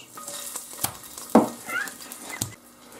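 Crushed garlic cloves drop into hot oil for garlic soup, giving short sputtering sizzles and crackles with a few sharp knocks in between.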